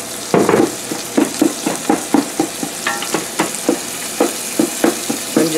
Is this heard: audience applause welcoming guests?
no